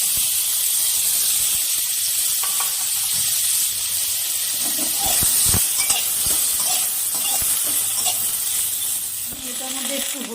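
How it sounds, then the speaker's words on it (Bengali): Moringa drumsticks sizzling as they fry in oil left over from frying fish, a steady broadband hiss with crackles and spits, close and fairly loud throughout, occasional utensil clinks and a faint voice underneath. "আমি ওই মাছ ভাজা তেলের মধ্যে সজনে ডাঁটাগুলো ভেজে নেব।"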